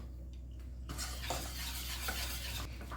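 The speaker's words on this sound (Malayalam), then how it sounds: "ഇനി ഇത് നമുക്ക് നന്നായിട്ട് ഇതുപോലെ ഒന്ന് മിക്സ് ചെയ്ത് കൊടുക്കാം" Chocolate cake batter with a little lemon juice stirred in a bowl, a steady close scraping and swishing of the spoon against the bowl that starts after a quiet moment and carries on without pause.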